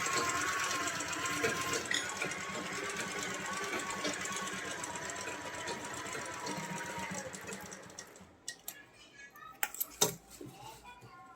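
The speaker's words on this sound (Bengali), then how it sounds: "এভাবে আমি ধরে ধরে প্রথমে সেলাইটা করে নেব" A sewing machine stitches a doubled fabric neckline with a steady, fast mechanical whir for several seconds, then stops to scattered clicks and handling noise, with someone talking over it.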